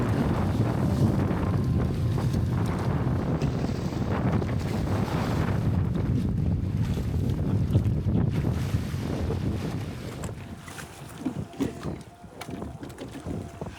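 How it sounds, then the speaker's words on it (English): Wind of about 10 to 15 knots from the southwest roars steadily across a rowing boat at sea on the Pacific, a loud continuous rush with water sloshing that eases slightly toward the end. "The wind is really against us, about 10 to 15 knots from the southwest"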